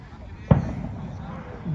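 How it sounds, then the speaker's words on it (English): A single firework bangs with a sharp low thump at a senior cup football match, then fades into a rumbling tail over background crowd noise. "Fireworks."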